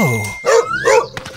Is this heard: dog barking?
yes